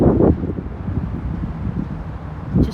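Wind gusts through swaying trees as a storm approaches ahead of snow, a low rumbling roar buffeting the microphone, louder at the start and end, with no voices.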